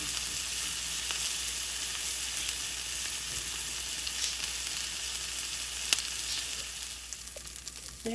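Food caramelizing in butter that is close to burning in a pan, giving a steady, close, continuous sizzle with a few faint pops and no talk.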